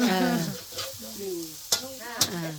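A Thai-style omelette fries in a pan with a bright, close sizzle. Stirring or spatula scrapes come through, and two sharp clacks stand out near the end.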